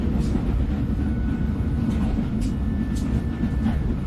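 A train moves steadily in an atmospheric mystery video game, a continuous low rumble and rolling rattle filling the background without pause.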